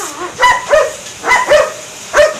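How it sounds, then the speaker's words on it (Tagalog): A big dog, seemingly a German Shepherd, barks loudly and close by, five deep woofs in two quick pairs and then a single one. "lalaki ng aso, ingay"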